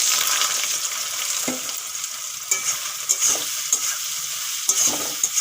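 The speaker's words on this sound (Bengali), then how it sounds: "এর উপরে হলুদ আর লবণ দিয়ে দিয়েছি এখন ভেজে নেব" Soaked soybean chunks coated with turmeric and salt frying in hot oil, a bright close sizzle broken by repeated spatula stirs and scrapes against the pan.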